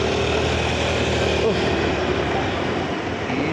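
A steady motorcycle engine drone runs throughout while riding in the cold, close and continuous, with rushing wind noise over it and no talking.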